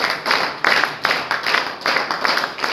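A class of students claps together in a steady, patterned rhythm of repeated group bursts, close and fairly loud, with no talk.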